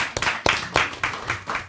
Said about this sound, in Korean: 박수 좀 치고.